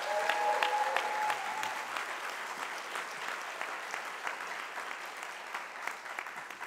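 An audience at a conference on restorative justice in schools breaks into applause, a dense burst of clapping that starts strong and settles into a steady patter through the clip.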